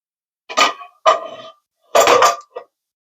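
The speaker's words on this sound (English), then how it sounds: "So we're going to take this lid off." A slow cooker lid lifted off after eight hours of cooking tri-tip, heard as a few separate clinks and knocks of lid against pot, one short burst after another, close and fairly loud with gaps between.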